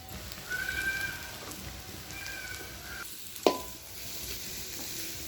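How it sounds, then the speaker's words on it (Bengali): Chopped onions fry in hot oil with whole spices in a wok on a clay stove, a soft, steady sizzle with one sharp metallic clink partway through. "তেল গরম হয়ে তারপর ফোড়ন দিয়ে কড়াইতে পেঁয়াজ দিয়ে দিয়েছে। পেঁয়াজটাও ভাজা মোটামুটি হয়ে এসছে।"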